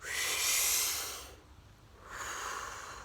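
Deep breathing during a guided breathwork exercise: a long, loud hissing inhale-exhale at close range, a brief quiet pause, then another full breath starting, with no talking.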